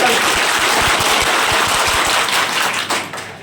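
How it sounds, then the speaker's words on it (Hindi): An audience at a Muharram gathering claps steadily, a dense sustained round of applause that fades near the end. "ताली बजाइए ऐसा कि सर के दिल तक छूले"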